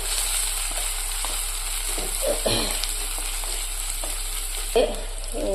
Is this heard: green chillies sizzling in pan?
yes